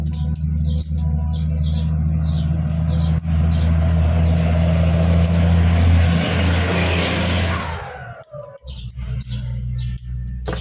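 Cars and trucks pass on a busy road beside a Thai workshop, building into a loud roaring whoosh that fades away, over a steady low hum with bird chirps scattered throughout.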